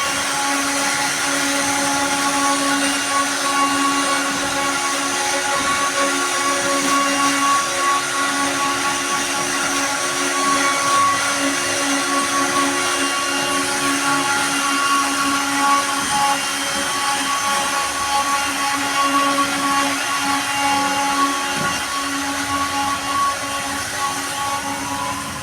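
A machine cutting a decorative design into a wooden door gives a steady, loud, unbroken whine with a constant pitch and no pauses. It runs alone for the whole stretch.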